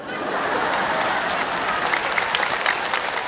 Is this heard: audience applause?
yes